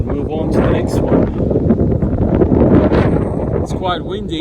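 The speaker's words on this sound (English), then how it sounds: "It's quite windy." Wind gusts across a farm on New Zealand's South Island, buffeting the microphone with a steady, loud roar and occasional rustling.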